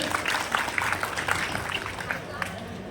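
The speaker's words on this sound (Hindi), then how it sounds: "उसका जवाब दीजिए एक जोरदार तालियों से" An audience at a parish day cultural program claps, with a moderately loud, steady patter of hands and crowd murmur mixed in.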